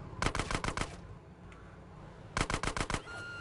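Gunfire in Grand Theft Auto San Andreas: two rapid bursts of about five sharp shots each, separated by a quiet gap, loud and close with no talking.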